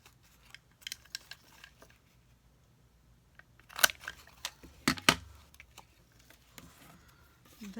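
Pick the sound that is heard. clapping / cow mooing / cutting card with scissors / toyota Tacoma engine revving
cutting card with scissors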